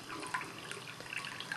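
A handmade thrown ceramic cat water fountain, about 5 inches tall with a 9-inch bowl, trickles gently from four points in a continuous soft, close patter of small drips without splashing.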